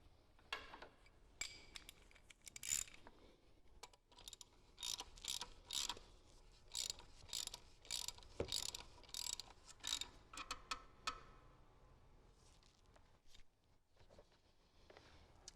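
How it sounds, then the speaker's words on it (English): Ratchet tightening a plastic oil filter housing cap into a metal engine, quick bursts of crisp clicking pawl strokes in an uneven rhythm, close and fairly quiet, fading at the end. "And then grab our ratchet and tighten this thing up."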